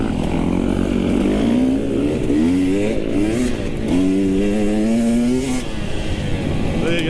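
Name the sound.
dirt bike engine revving while using the clutch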